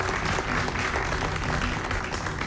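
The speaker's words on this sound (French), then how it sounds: "je voudrais juste demander au public d'applaudir encore une fois Harry." A studio audience applauds Harry, a continuous wash of many hands clapping, fairly loud and steady throughout with no voices over it.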